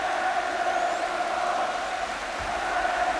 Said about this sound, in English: And no wonder they're getting a good round of applause.